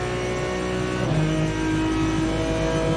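Race car engine revving steadily in a racing motion simulator, a loud continuous drone with a brief pitch shift partway through, no talk.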